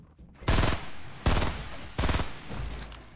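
Three sharp bursts of rapid Fortnite video game gunfire ring out about a second apart, each a loud crackling volley with a short tail.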